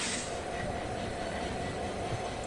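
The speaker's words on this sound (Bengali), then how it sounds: "ঝকঝকে ঝক ট্রেন চলেতেছে।" A train runs in an Android railway game set on a Chittagong to Sitakunda route, giving a steady rumbling rail noise that holds evenly at a modest level with no talk.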